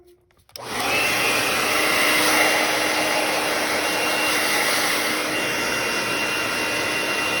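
A heat gun starts with a click and then blows a steady, loud whooshing roar while heating grip tape to seal it onto a Springfield XDM pistol, running on unbroken to the end.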